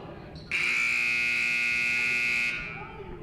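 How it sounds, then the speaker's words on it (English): A loud, harsh electronic buzzer marks the end of a period at a high school boys basketball game, sounding as one sustained blast of about two seconds over faint gym noise. "There's a question whether he beat the buzzer or not."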